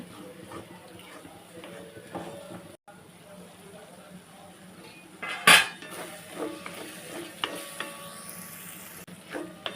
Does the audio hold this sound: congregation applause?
no